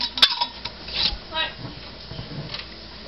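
A metal lid goes onto a glass canning jar of home-canned zucchini or carrots, with a few light clinks and taps, one sharp click near the start, and soft handling noise between.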